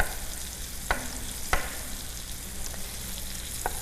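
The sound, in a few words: chicken frying in a pan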